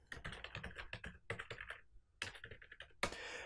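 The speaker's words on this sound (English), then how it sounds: "I hit Alt 7 on my keyboard" Keys pressed on a computer keyboard during work in an Excel spreadsheet, a rapid run of close, crisp clicks, a short pause, then another cluster of taps ending in one sharper keystroke.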